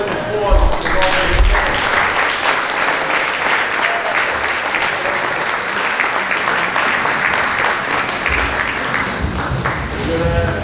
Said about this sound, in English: more round of applause.